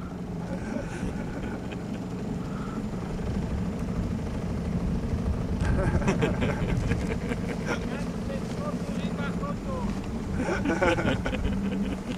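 A boat motor drones steadily across the water at the Ławice Kiełpińskie nature reserve in Poland, with wind buffeting the microphone, while people talk intermittently in Polish over the engine noise.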